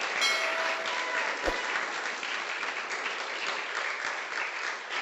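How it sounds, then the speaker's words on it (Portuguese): A church congregation at an evening service applauds the Lord with sustained, full clapping that stays loud and even from start to finish, marked by a single sharp thump early on. "Você que recebe esta palavra, aplauda o Senhor nesta noite."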